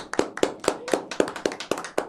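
Audience clapping to welcome a guest writer onto a discussion program, heard as about eight crisp, evenly spaced claps in a quick steady rhythm, close and fairly loud.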